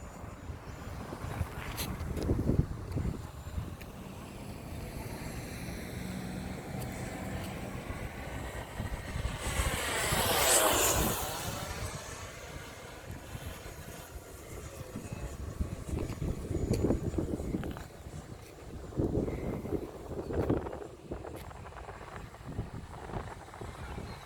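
An Arrowshobby twin EDF F-15 RC model jet roars with a turbine-like whoosh that swells to a loud pass near the middle and then fades. Wind buffets the microphone and faint sounds from the outdoor field surround it.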